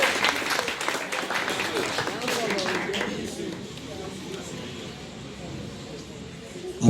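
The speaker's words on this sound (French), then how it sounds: "sous vos acclamations, s'il vous plaît." An audience at the Slameroun slam festival in Cameroon claps and cheers to welcome performers, dense applause that fades after a few seconds into lighter scattered noise, with a voice talking over it.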